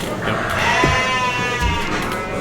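Sheep bleat at a livestock sire showcase in the Midwest, a wavering drawn-out call rising over a busy, steady crowd murmur and barn noise, fairly close and loud throughout.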